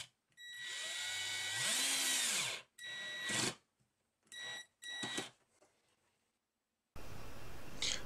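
An electric screwdriver drives screws to join two flywheels for a DIY solenoid engine, with a long whirring run that bogs down and then several shorter bursts and pauses, close and loud, and no voices.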